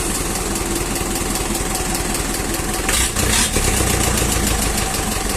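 A Mitsubishi 4D31 diesel engine idles after starting, a loud, steady close-up rattle with rhythmic knocking and a brief shift in tone partway through, with no voices over it.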